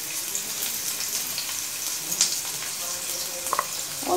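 Chopped onion fries in about a tablespoon of oil in a pan, giving a steady, moderate sizzle with faint crackles and a few small clinks near the end, heard close up without speech.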